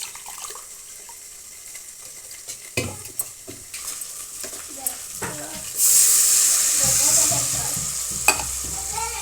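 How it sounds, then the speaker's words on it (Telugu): Water pours into a pot of basmati rice with masala for bagara rice, a gushing splash that starts partway through amid clinks and handling sounds of the pot. "4 గ్లాసులు వాటర్ వేసుకోవాలండి."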